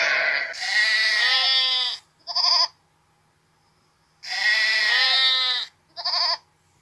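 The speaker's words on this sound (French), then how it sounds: "c'est un troupeau de brebis" Several sheep bleat together in a flock, two long overlapping bursts of bleating each followed by a short shorter call, loud and close with pauses of quiet between.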